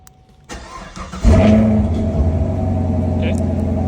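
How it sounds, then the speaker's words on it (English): A Chevrolet Camaro engine starts by remote: a faint click, then a cranking catch and a loud rumbling idle that settles into a steady, close drone. "Now if I press the remote, now the car will start."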